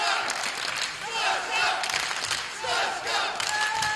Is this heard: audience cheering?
yes